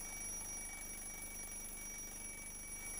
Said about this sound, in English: We can see the bell is ringing, as well as hear it.